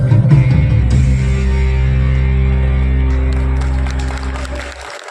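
A festival crowd at Jhargram claps steadily and loudly over a sustained droning musical tone, the applause fading slightly toward the end.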